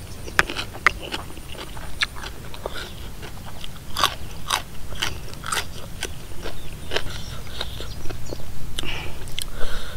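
Close, crunchy chewing of jellyfish in a spicy Thai seafood salad, with repeated sharp crackling bites, loud and irregular, no talking.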